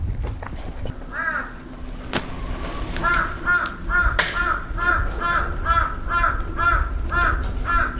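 A crow caws in a steady, repeated series of harsh calls, loud and fairly near, over low outdoor rumble.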